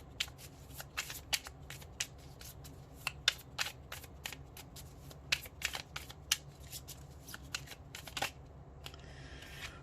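Tarot cards being shuffled up close, a steady run of crisp riffling and flicking snaps with short pauses, alone with no talking.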